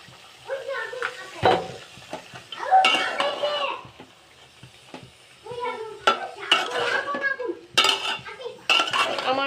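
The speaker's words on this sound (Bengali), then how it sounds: "ধুয়ে রাখা সবজিগুলো দিয়ে দিব।" Washed vegetables are tipped into a pan of cooked-down spices and stirred for a cauliflower, potato and rohu fish dish: scattered metal scrapes and clinks of a spoon against the pan, coming in bursts with a light sizzle between them.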